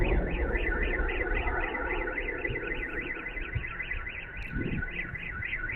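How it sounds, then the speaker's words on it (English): Car alarm wailing at a distance, a steady rising-and-falling electronic siren that repeats without a break over low background rumble, with a brief dull thud near the end. "maybe that might be a car alarm"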